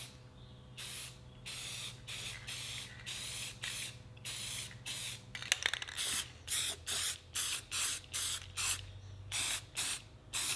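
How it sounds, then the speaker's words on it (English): Rattle-can spray paint applied to restored band saw parts in a rapid series of short, close hissing bursts separated by brief pauses, with a low steady background hum underneath. "Then I gave everything a couple coats of paint from the rattle can."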